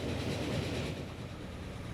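A diesel train in the railway simulation game Transport Fever 2 rumbles steadily with a broad, continuous rolling roar that fades slightly partway through, with no voices.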